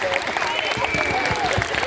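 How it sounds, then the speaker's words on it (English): A school audience gives teachers and staff a round of applause, a steady wash of clapping with scattered cheers and voices mixed in across the room. "Let's give them a round of applause."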